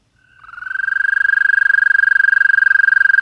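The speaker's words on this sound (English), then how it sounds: "That's the sound of American toads." An American toad gives a long, loud, steady musical trill that swells in over the first half-second and then holds, close and clear against near silence.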